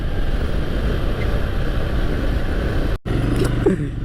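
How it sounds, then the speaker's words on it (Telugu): A Bajaj Platina motorcycle is ridden with three people aboard, its engine droning steadily and loud up close, with a brief cutout before the hum resumes. "ప్లాటిన బండి సంపుతున్నాడు"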